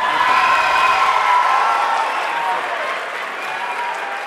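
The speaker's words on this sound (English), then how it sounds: "Please clap for us, please." Audience at a school film challenge awards night applauding the hosts, a full dense round of clapping from a crowd with some cheering, loud at first and easing slightly toward the end.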